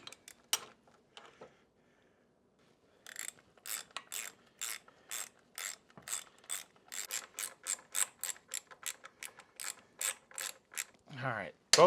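A ratchet clicks in quick, steady bursts while two bolts are run in on a primary chain tensioner, following a few isolated taps and a short quiet stretch, then ending with a brief slide.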